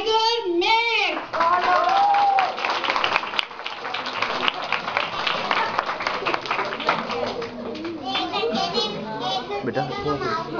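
Children applaud to welcome a costumed Tiger Max, a dense burst of clapping that swells and carries on for several seconds, mixed with excited kids' voices and an adult speaking.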